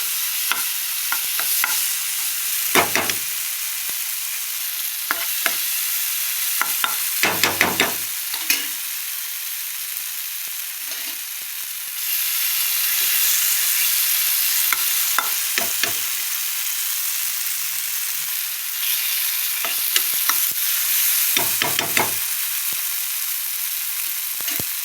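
Masala spices sizzle steadily as they are stir-fried in a pan for a Bengali lunch dish, a continuous frying hiss broken by repeated scraping stirs and clinks of the spoon, with no talking.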